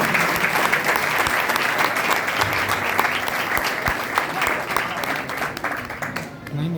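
Sustained applause from an audience at a church ministry welcome, steady dense clapping filling the whole stretch and easing slightly near the end.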